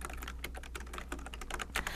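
Fingers typing on a computer keyboard in quick, irregular bursts of close clicking keys, with no voice over it.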